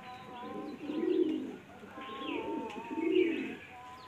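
A male Kotashi pigeon, an old-generation bird held in the hand and struggling, gives two low, rolling coos, each swelling and fading about two seconds apart, close to the listener with no talk.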